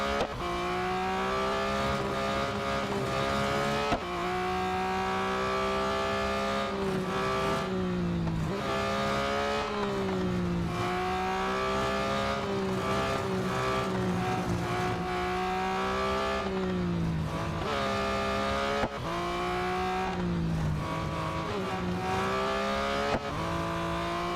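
Porsche 911 GT3 (2021) engine in Real Racing 3, sustained loud race-car whine rising and falling through gear changes and revs with steady, near, close-mic'd sound across laps, no talk.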